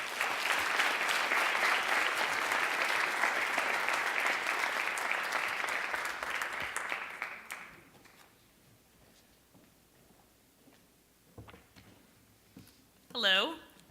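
An audience at a Stony Brook lecture applauds to welcome a speaker, dense clapping that fills the room for several seconds, then thins and fades to scattered claps before a voice begins speaking.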